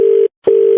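A steady telephone dial tone on a phone line, cut off by a short silence with a click, then resuming loud and continuous.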